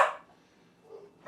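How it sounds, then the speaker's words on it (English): Dogs bark in short sharp bursts, one at the start and another at the end with a softer yelp between, moderately close and alone. "Dogs are going crazy."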